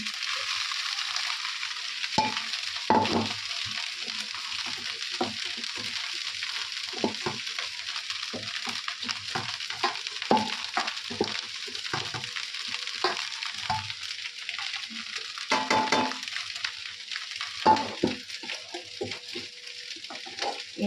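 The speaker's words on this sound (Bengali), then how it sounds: "ভাতগুলো যদি একটু ভাজা ভাজা করে দিই সবাই মিলে খাওয়া হয়ে যায়" Cooked rice stir-fries in a pan in a home kitchen, making a constant sizzle broken by repeated scraping and stirring strokes, close and steady with no talking.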